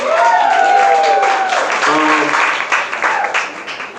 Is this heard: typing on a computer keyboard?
no